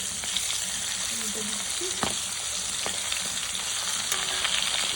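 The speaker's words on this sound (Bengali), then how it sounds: "এই দেখুন মাছটা খুব ছিটকাচ্ছিল, তাই আমি একটা ঢাকনা দিয়ে একটু ঢেকে দিয়েছি, নাহলে সারা রান্নাঘর আপনার তেল ছিটকাবে।" Pangas fish frying in hot oil, with a steady dense sizzle and sharp spattering pops throughout, close and loud, no talking.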